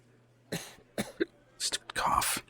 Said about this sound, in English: Stupid cough.